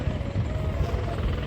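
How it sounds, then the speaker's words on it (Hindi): A helicopter flies over Kedarnath, its steady rotor thump and engine roar filling the scene loudly and continuously with no speech. "अगर आप आएंगे तो हेलीकॉप्टर आपका बहुत ज़्यादा दिमाग ख़राब करेंगे"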